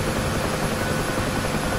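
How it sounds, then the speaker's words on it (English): Steady, loud rotor and turbine roar from a UH-1H Huey helicopter lifting off in the DCS flight simulator game, a dense wash of noise with no voices. "Helicopter lifts off the ground, we'll have a tendency to nose down."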